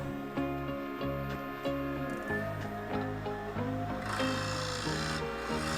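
A scraper cutting a claret ash live edge bowl on a wood lathe makes a continuous close, rasping scrape with rhythmic surges and a humming lathe underneath, with no speech.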